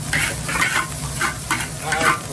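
Rice fries in a hot pan with ginger as a utensil stirs it in repeated scraping sweeps over a constant sizzle, close and fairly loud.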